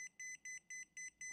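An electromagnetic radiation tester bought from AliExpress sounds its alarm, a faint series of sharp electronic beeps in quick pairs repeating at a steady, rapid rhythm.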